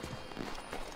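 Footsteps crunching through snow in Assassin's Creed 3, a soft, steady run of muffled treads heard faintly under a continuous wash of ambient noise.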